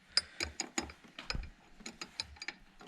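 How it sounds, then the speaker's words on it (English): Ratchet wrench tightening a ZR1 wing onto a C7 Corvette, close, with crisp repeated clicking strokes in uneven groups and a thud in the middle. "You can see right there as Terry's tightening up the other one"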